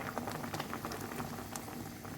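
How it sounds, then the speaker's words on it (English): Water boils in a cooking pot for pumpkin leaves and beef meatballs, a soft continuous bubbling and popping patter at low volume, close by and with no talk over it. "And then we're going to wait to boil."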